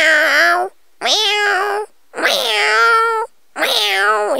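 A person imitates a cat, giving four drawn-out meows in a row with short pauses between them. The voice is loud and close, and no other sound is present.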